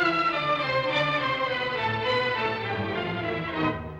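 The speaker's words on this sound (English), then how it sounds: "Almost sounds like a whole different theme in the minor" Full orchestra playing a Brahms symphony melody recast in a minor key, sustained strings and winds in a smooth, continuous legato line at moderate loudness.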